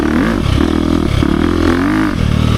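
Close and loud, a 2023 KTM 350 XC-F Factory Edition four-stroke dirt bike drones at speed, its pitch swooping up and down with throttle changes and a brief dip near the end.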